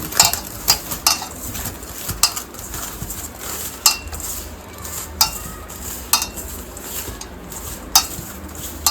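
A spoon clinks and scrapes against a metal pot while garlic chilli paste and fenugreek are mixed into an undhiyu dish, sharp knocks recurring roughly every second, close and fairly loud, with a faint sizzle underneath.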